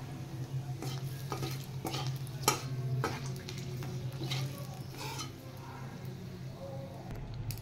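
Dried red chillies and bay leaves crackle in hot oil alongside whole cardamom and cinnamon, with a soft continuous sizzle, repeated utensil clinks and scraping stirs against the pan.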